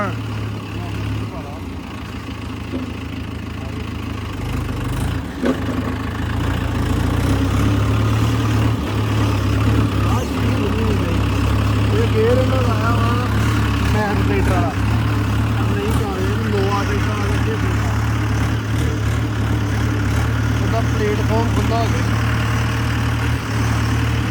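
A heavy tractor engine idles and rumbles steadily throughout, its low drone growing a bit louder after the first few seconds, with people talking over it.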